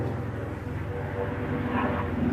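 An airplane drones overhead, a steady low engine rumble that swells slightly toward the end, moderately loud, with no clear speech over it.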